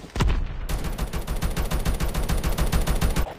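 Rapid automatic gunfire in a video game, a loud, close burst of evenly spaced shots firing continuously for about three seconds after a single opening shot, with no talk.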